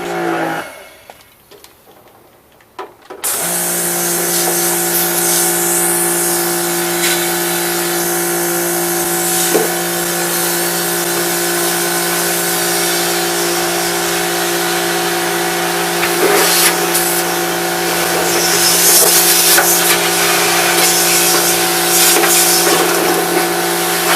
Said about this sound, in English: This is me gonna turn on the power washer and then just wash it up real quick.